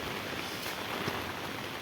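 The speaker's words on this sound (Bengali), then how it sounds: "তারপরে এত সুন্দর বৃষ্টি" Wind-driven rain in a Bangladeshi village, a dense, even roar of falling water and gusting air, steady and enveloping for a brief moment.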